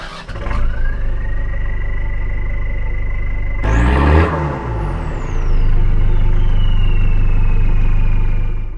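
A Mitsubishi Delica L300 van with a D4BF diesel engine runs steadily and loudly close by, with a rising whine, then a sudden louder surge and a falling sweep as it pulls away and revs settle into a droning cruise.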